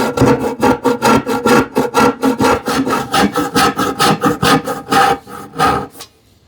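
Hand chisel working through wood grain while building a TV unit: a close, steady run of short rasping, scraping strokes, roughly four per second, each a brief burst, stopping abruptly near the end.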